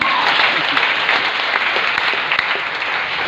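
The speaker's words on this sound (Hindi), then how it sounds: "थोड़ा जोरदार तालियां नौकरी वाले के लिए।" A seated audience at a Mi Lifestyle motivational seminar claps loudly and steadily for a few seconds in a dense, even wash of applause.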